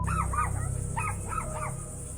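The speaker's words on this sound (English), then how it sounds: "Dogs are playing." Two puppies at play in a home give short, high yelping whines, about five cries in two quick bursts over a steady low hum and hiss.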